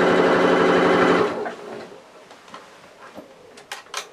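A sewing machine stitches fabric for a soft-toy project in a short steady run that stops after about a second, followed by quiet handling clicks and rustles of cloth nearby.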